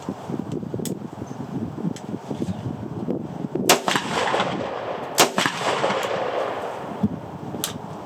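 An M+M M10X rifle fires steel-cased 7.62x39 rounds outdoors, with a couple of loud sharp reports standing out over steady wind and background noise, plus a few fainter distant shots.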